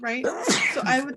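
A single sharp human sneeze bursts out in the middle of indoor conversation, close and clear, with people talking immediately before and after it.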